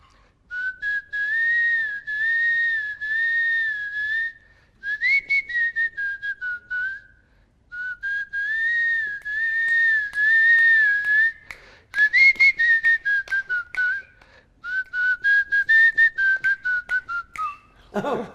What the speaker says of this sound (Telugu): నా ఫస్ట్ సినిమాకి పవర్ సినిమా రవితేజ గారి దాంట్లో విజిల్ ఉంటుంది